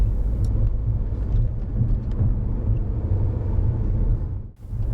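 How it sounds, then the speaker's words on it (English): A manual car's engine rumbles steadily and close as the clutch is raised gently to change gear, with a low, even drone that dips briefly near the end. "try pressing lightly on the gas before gently raising the clutch fully"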